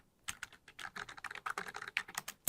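Someone types steadily on a computer keyboard, with quick, uneven, close keystroke clicks and no talk over them.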